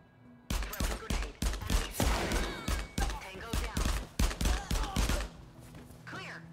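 Rapid gunfire in the video game No Plan B as a character takes many hits: about a dozen loud, sharp, evenly spaced shots close together, then a quieter tail with faint movement sounds.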